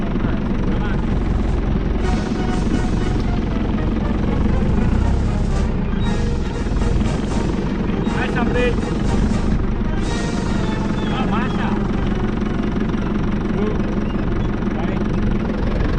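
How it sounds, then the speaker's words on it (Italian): A tractor engine runs steadily while plowing between vineyard rows, a loud continuous rumbling drone close by, with occasional clanking and faint voices in the background. "adesso salgo sul trattore e si parte"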